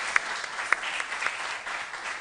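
Quiz teams clapping for themselves at a school quiz competition, a steady patter of applause from a modest group with a few sharper claps standing out, moderately loud throughout.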